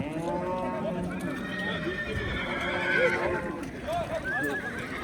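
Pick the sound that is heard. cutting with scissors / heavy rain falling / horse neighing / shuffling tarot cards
horse neighing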